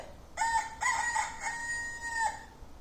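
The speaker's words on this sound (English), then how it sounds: "The rooster wakes the farmer in the morning." Rooster crowing from an Eric Carle farm-animals button sound book, a single clear electronic cock-a-doodle-doo with a long held final note, loud and alone.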